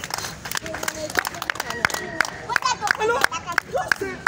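Church congregation clapping and cheering at a French-language worship service, sharp scattered claps under a loud preacher's voice and crowd hubbub.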